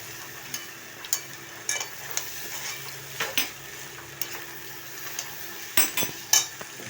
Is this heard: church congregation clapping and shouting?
no